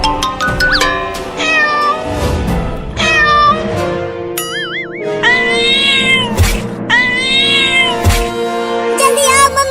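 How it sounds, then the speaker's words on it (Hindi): A cartoon cat meows and yowls loudly and repeatedly in a comedy cartoon. The long, wavering cries rise and fall in pitch and come close together, mixed with bright cartoon sound effects. "ये बिल्ली मुझे काटने के लिए अलमारी पर भी चढ़ने की कोशिश कर रही है"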